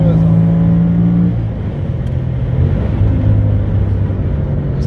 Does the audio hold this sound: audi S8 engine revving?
yes